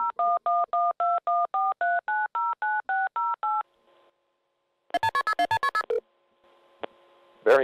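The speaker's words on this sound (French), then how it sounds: "En appelant ce numéro de téléphone, les chercheurs sont tombés sur ce message préenregistré." Touch-tone keypad beeps dial a phone number in a quick run of about a dozen even tones, followed by a short burst of faster electronic tones and a faint line hum.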